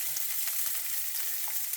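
Steady, close sizzling of onions frying in a buttered pan, a continuous crackling hiss with scattered pops and no voices.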